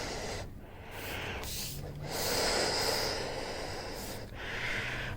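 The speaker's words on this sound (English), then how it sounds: "Breathing through the respirator right now because of the this is lead paint." Heavy, loud breathing through a respirator mask while lead paint is ground off, with long hissing inhales and exhales close to the microphone over steady background noise.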